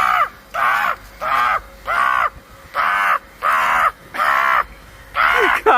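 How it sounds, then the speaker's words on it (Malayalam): Crows caw loudly and close by over a house, in a steady run of about eight harsh calls with short gaps between them. "കാക്കകൾ എത്തിട്ടോ"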